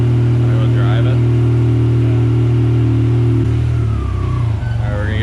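A car engine drones and revs while driving, a loud steady mid-pitched hum that shifts gear and dips near the end, with occasional voices over it.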